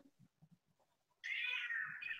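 A cat giving a single long, loud meow close by, preceded by faint soft background sounds and a brief murmured voice.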